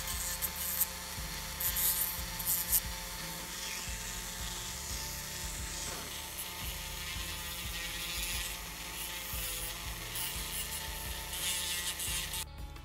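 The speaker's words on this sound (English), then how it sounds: "I'm going to work on this tooth now with my Dremel and kind of fine tune it a little bit more" A Dremel rotary tool grinds and shapes an acrylic fang tooth, giving a steady high whine with shifting grinding pitch that runs close and continuous, with no talking.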